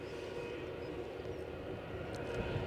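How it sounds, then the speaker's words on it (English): British Airways Embraer 190 inbound at Edinburgh, a faint, steady distant jet rumble persisting through the short moment with no clear peak. "We've got a British Airways inbound, an Embraer 190 SR from Southampton"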